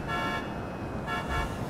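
Car horn honking in the open-world game GTA 5: loud, steady tonal blasts over traffic noise, with a short break before the horn sounds again.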